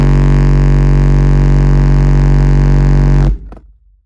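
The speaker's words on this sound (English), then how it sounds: "Here we go, 47 hertz. Another loud boom coming your way" A Skar Audio SDR-18 18-inch subwoofer blasts a 47 Hz tone, a very loud, steady, buzzing bass boom that holds for over three seconds before cutting off into a brief rattling decay.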